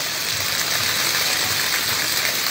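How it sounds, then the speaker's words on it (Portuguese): Steady afternoon rain falls in the town centre of Crato, Ceará, a dense even hiss of drops on surfaces that holds constant with no pauses or voices. "Terra que está sendo lavada pela essa chuva gostosa nessa tarde de quinta-feira."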